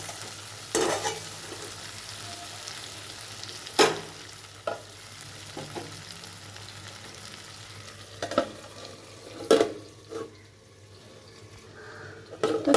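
Chicken curry cooks in a pan, a faint low simmer and sizzle under scattered stirring clatters and lid knocks at irregular intervals.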